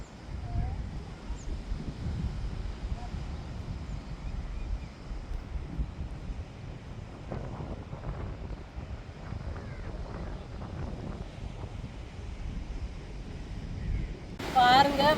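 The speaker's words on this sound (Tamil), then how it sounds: "இப்போ 2 நாளாக சரியான காற்றுங்க." Strong seaside wind rushes and buffets the microphone in a steady, loud roar for the whole stretch, with a brief sharper gust near the end; no one speaks.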